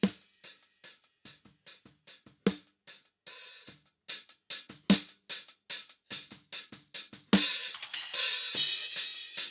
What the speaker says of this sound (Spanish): Empezamos por la caja sin procesamiento y voy pivotando.